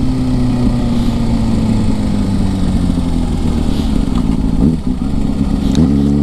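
A 2007 Kawasaki ZX6R Ninja 600 sport bike engine runs steadily and loud throughout, with a dense, buzzing drone that holds nearly constant, one brief dip near the end, with no talking.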